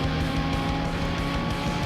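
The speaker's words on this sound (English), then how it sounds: "that perfect launch is all too important, especially against Sonny and when you're using a stock car." Race car engine in Need For Speed Most Wanted, a stock car making a launch, roars loud and steady with a dense, sustained drone throughout.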